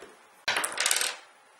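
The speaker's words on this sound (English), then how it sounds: "we have to roll a spare mana dice to determine what our reward is going to be" A spare mana die from the Mage Knight board game lands with a sharp clatter and rattles briefly on a hard tabletop, close and loud, then quickly settles into silence.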